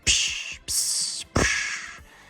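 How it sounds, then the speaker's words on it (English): Three bursts of bright, hissy splashing as water condensation hits the exhaust header collector of a C6 Corvette with Speed Engineering 1 7/8 headers, each starting with a thump and lasting about half a second, fairly loud and close, with no talking. "It's just water condensation hitting your collector."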